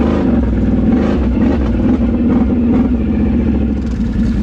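A Can-Am Outlander ATV on new wheels and tires, its engine idling high with a raspy, throbbing mechanical drone, loud, close and steady, with no talking.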